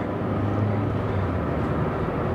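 A Renault Twingo engine pulls steadily under acceleration, a loud continuous low drone with a rising hum through the whole stretch and no voices.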